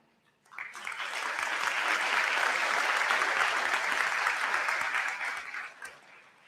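Audience applause for graduating honors students at a college commencement ceremony, a steady dense wash of clapping from a large crowd that swells in, holds for about five seconds, then fades out.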